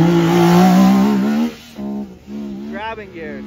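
A Yamaha YXZ side-by-side accelerates hard around a dirt competition track, its engine revving up through the gears with a rising, loud drone before easing off, while people talk excitedly over it.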